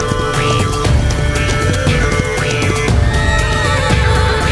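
Horses neighing in the video game Heart of Mongolia, several rising whinnies in a row over music and ambient game sound.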